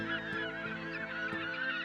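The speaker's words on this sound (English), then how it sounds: "This group of gulls, with Venture in the background, will have to move when their island is covered by the incoming tide." A group of gulls gathered on a small tidal island along a remote Alaskan peninsula, with a boat anchored nearby, calls together in a steady overlapping chorus of honking, squawking cries at close range.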